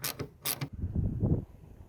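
Screws or bolts being taken off the fuel filler area of a 1965 Mustang parts car: two short sharp metallic squeaks followed by a low grinding creak as a fastener turns, close and fairly quiet, no talking.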